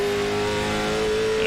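A simulated CARS Tour race car engine drones steadily at high revs in iRacing on the North Wilkesboro oval, a loud continuous buzzing tone with no talk.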